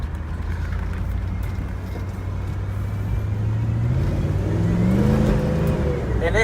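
A Mercedes C43 AMG engine drones low and then rises in pitch as it accelerates, loud and close with road roar throughout.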